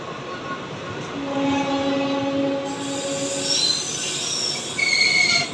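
A Rajahmundry–Kakinada local train hauled by a WAG-9 electric locomotive runs past with a loud, continuous rumble of wheels, a sustained tonal whine and squeal, and a brief horn note.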